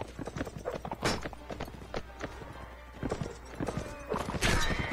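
A horse in a video game clip-clops with rapid, uneven hoofbeats and lets out a neigh near the end, moderately loud against a busy game background.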